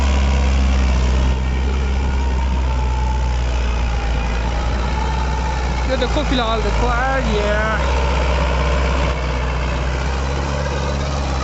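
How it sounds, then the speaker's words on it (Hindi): A 585 tractor rated at 50 HP runs steadily while pulling a tiller, still going with both levers down as its RPM drops. Its loud, continuous low engine rumble fills the whole stretch, and someone talks briefly over it midway. "दोनों लीवर डाउन करने के बाद भी ट्रैक्टर रुक नहीं रहा। आरपीएम ड्रॉप पे जरूर कर रहा"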